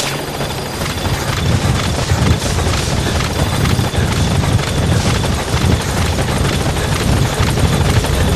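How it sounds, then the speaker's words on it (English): Support helicopter in Metal Gear Solid V: The Phantom Pain arriving at a landing zone, a loud steady rotor roar with thumping low-frequency blade chop throughout, close and continuous with no talk. "Support helicopter has arrived."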